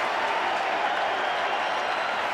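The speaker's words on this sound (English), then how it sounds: "And the crowd celebrates." A rugby league crowd at a 1988 Broncos versus Sea Eagles match cheers and applauds after a try, a broad, steady roar of distant clapping and shouting that holds even for a couple of seconds.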